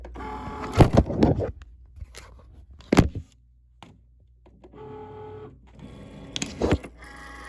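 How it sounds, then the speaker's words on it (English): A Cricut Maker cutting machine draws a mat in during paper crafting: a few short mechanical whirring and clicking bursts, close and moderately loud, separated by quiet gaps, with brief handling noises between them. "gonna go ahead and load our mat in"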